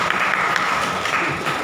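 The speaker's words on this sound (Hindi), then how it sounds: "पास्टर जी के लिए भी ताली बजा।" A church congregation claps together in a dense, continuous wash of applause that fills the room evenly and loudly for the whole moment.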